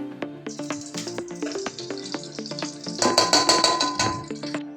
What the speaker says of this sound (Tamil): கடாய் கிட்ட வச்சு எண்ணெய் விட்டுலாம்